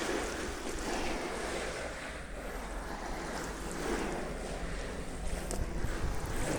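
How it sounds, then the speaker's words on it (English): Water sprays steadily onto a no-dig garden bed covered with newspaper, a continuous close hiss with wind buffeting the microphone and no voices. "And then just gonna water it."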